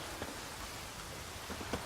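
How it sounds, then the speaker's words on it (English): Steady rain conjured by a spell in The Witcher 3, a soft continuous hiss of falling drops with a few slightly louder patters, faint and alone without any talk. "Let it rain. Wash the blood from the fields."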